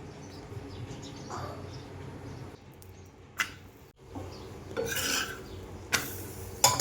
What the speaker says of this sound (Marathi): अगदी चपातीसारखं आपल्याला हे लाटून घ्यायचं आहे